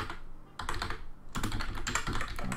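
Quick bursts of typing on a computer keyboard, close and fairly quiet, with a short pause before a denser run of key clicks, no voices.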